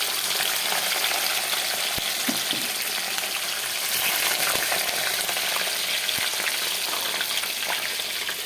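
Pieces of fish sizzle and crackle steadily in hot oil, a constant frying hiss with occasional small pops and stirring clinks.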